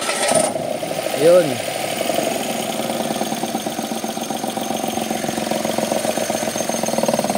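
Mitsubishi Mirage engine idling rough with a misfire, a steady low running drone that continues throughout, with a brief louder tonal sound near the start and someone speaking briefly over it.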